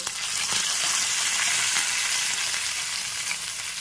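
Ginger paste with a little water fries among tempering spices in a pan while being stirred, making a loud continuous hiss and sizzle up close with faint scraping strokes.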